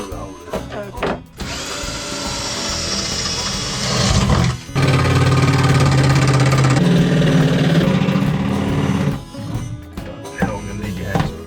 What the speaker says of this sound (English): Dad's just cut all of these bits with a jigsaw